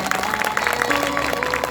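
Audience applause at a spoken religious and cultural gathering, a brief burst of dense, steady clapping from a crowd that holds at an even level throughout.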